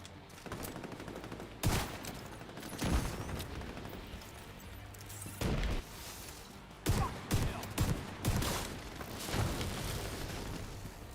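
Repeated bursts of game gunfire in The Division 2, a sustained rattle of shots broken by several sharp, loud volleys over a busy combat bed, with no talk.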